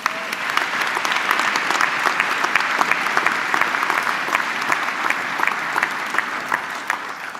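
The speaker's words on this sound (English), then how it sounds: "Applaud yourselves" Graduates applaud themselves at a university graduation ceremony, sustained crowd clapping with sharp individual claps throughout, filling the hall at steady volume.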